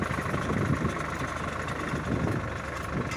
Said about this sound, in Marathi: अशा पद्धतीचं ट्रॅक्टर आहे बघा